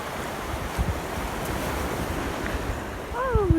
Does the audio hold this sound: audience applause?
no